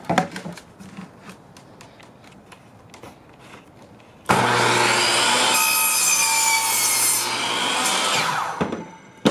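A few light taps and handling noises, then a loud power saw roars through a wooden bed slat for about four seconds before winding down.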